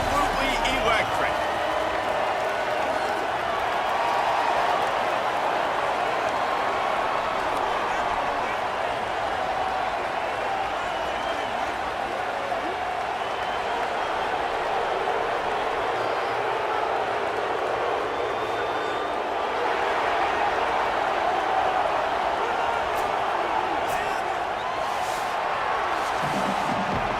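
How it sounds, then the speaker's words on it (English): A stadium crowd roars steadily in the video game EA Sports College Football at a college football game, a dense, continuous cheering wash that holds at one level throughout. "the crowd is making this house absolutely electric"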